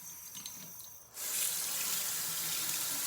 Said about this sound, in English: Wash it as good as you can without hurting the roots.